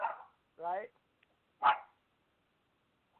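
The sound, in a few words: dog barking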